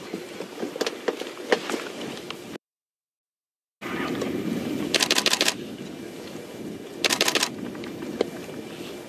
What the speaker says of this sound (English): So if you hear that clicking, don't worry, that's just my camera.